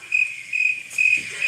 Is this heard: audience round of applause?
no